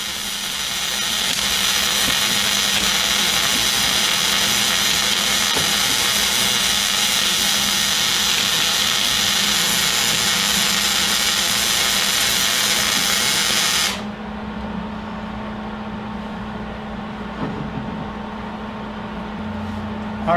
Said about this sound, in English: with my free hand, I can simply roll the tube while welding it.